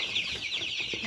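Chickens cluck in a chorus of high, repeated calls inside a poultry farm pen, close and continuous, with a faint voice underneath.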